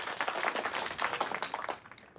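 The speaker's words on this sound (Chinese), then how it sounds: "掌声欢迎刘烈！" A small audience of older listeners at a book club applauds to welcome a newcomer, a short burst of dense, even clapping at moderate loudness.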